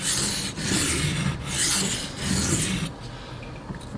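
A pocket knife is drawn across a sharpening stone in three long, steady rasping strokes, close and fairly loud, followed by a quieter stretch with only faint scraping.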